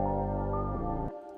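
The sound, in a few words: reversed synth pluck with reverb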